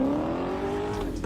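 A BMW car drifting, its engine droning loud and steady with a rising tone, tyre noise mixed in, over one short continuous stretch.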